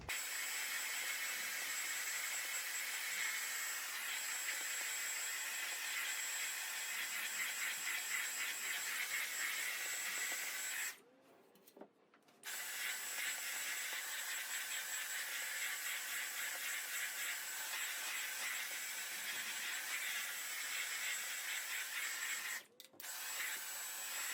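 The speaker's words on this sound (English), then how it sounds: "So I'm going to use my Dyson vacuum cleaner just to get all of this off." A Dyson vacuum cleaner runs at full power over a felt air-vent intake filter for ducted heating, a steady loud whine and rush of suction that drops out briefly twice as the nozzle shifts.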